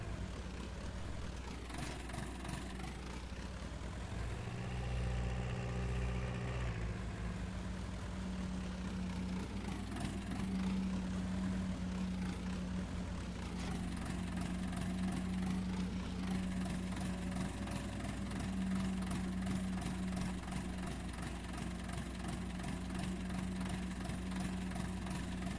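A vehicle engine in Farming Simulator 19 runs steadily through a test drive, a continuous droning hum that rises and falls in pitch as it revs, with no talking.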